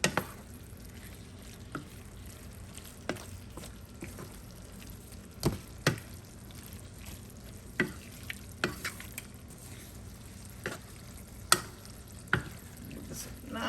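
Ackee and saltfish stirred and tossed in a frying pan, a quiet bed of frying with scattered sharp scrapes and clacks of a utensil against the pan at irregular intervals, near and fairly soft.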